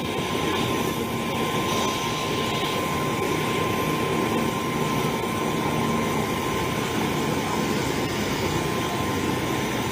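A helicopter waits to evacuate injured crash victims in Kerinci, Jambi, its engine a loud, constant roar and whine from close by with no break, voices barely present.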